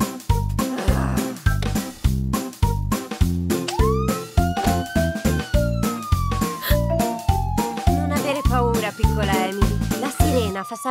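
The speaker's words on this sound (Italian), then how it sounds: "Quella è la sirena della polizia." A cartoon police car siren wails and sweeps in pitch over a loud, steady rhythmic beat in a children's song, with pulsing music dominating throughout.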